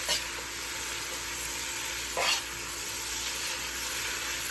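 Oxtail and cabbage with bacon get stirred in a pot, giving a steady soft sizzle with two brief scraping swishes of the spoon.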